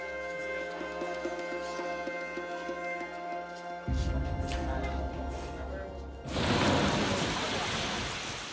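Rain in Tanzania pours down, starting as a patter and swelling into a heavy, dense downpour hissing steadily by the end.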